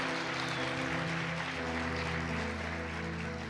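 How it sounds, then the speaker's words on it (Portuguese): A church congregation applauds after a baptism service, a steady wash of clapping that runs evenly throughout, with a sustained musical tone underneath. "Pode dar uma salva de palmas para Jesus"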